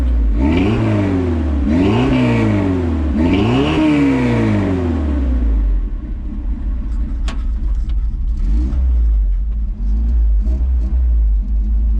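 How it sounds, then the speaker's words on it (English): Car engine with a Flowmaster 2-chamber muffler, no catalytic converter and a homemade exhaust, loud and close: three deep rising revs, then a steady low rumbling idle. "Flowmaster 2-chamber, no cat, homemade exhaust."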